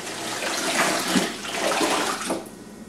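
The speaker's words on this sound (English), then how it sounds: "Now we're ready to pour our brine on top of the bird." Brine poured over a wild turkey, a continuous splashing gush of liquid for a few seconds that tapers off near the end.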